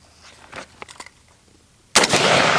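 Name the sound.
rifle gunshot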